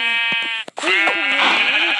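Sheep bleating in the video game Minecraft, two or three wavering harmonic bleats in quick succession with a short gap between, loud and close with no talk over them.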